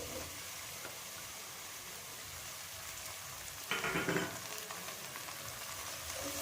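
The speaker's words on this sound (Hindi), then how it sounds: "प्याज को हल्का सा टेंडर होने तक फ्राई कर लेंगे आलूओं के साथ।" Chopped onions and potatoes frying together in a pan for a Spanish omelette, a steady soft sizzle throughout with a brief louder crackling burst partway, as if stirred.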